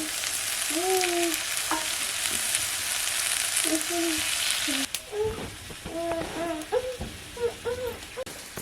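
Sliced potatoes fry in oil on a griddle over a wood-fired stove, making a steady, soft sizzle. Occasional scraping and stirring can be heard, along with some birdsong in the background.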